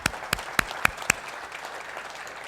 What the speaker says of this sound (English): let's give Heidi a big round of applause